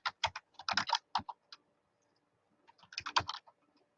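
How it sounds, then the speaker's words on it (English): Keys clatter on a Logitech computer keyboard in two short bursts of crisp, close clicks, with a brief quiet gap between the runs and no talking. "So I wanted to know, is my typing loud?"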